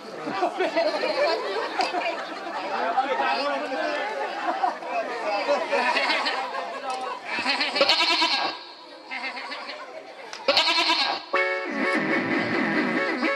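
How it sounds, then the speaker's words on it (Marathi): Goats bleating repeatedly amid overlapping voices and chatter, the calls loud and near, rising in bursts over a busy background. "बकरीचा आवाज."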